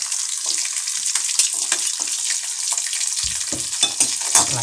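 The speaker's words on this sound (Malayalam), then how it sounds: "അതിനുശേഷം മുളകിടാവേ, കൊച്ചുള്ളി ഇടാവേ." Chili and shallots sizzle and crackle steadily in a hot pan, stirred with scraping, clattering strokes that grow heavier and more percussive toward the end, with no voices.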